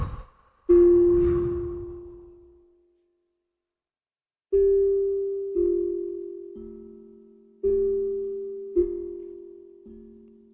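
Steady meditation tones ring out alone in a series of clean, sustained sine-like notes, some struck singly and others in overlapping pairs, each fading slowly with pauses between them.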